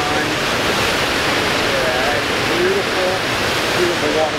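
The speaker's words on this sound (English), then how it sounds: "Beautiful waterfall. A spring runs in right there." A waterfall fed by a spring at a trout fishing spot, a loud, steady broadband rush of falling water filling the whole clip, with the faint sound of someone talking beneath it.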